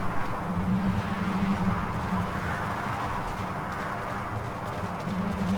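Horse hooves clip-clop steadily in Skyrim, a continuous even rhythm of a ridden horse against a low ambient wash, close and moderately loud with no talking.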